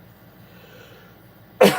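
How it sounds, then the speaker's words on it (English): A single sharp, close cough bursts out after near silence, ending the short stretch abruptly. "Here I go coughing."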